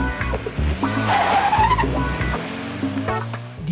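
A police patrol car speeds off with screeching tires, a loud close squeal over a roaring engine that fades slightly toward the end of the burst.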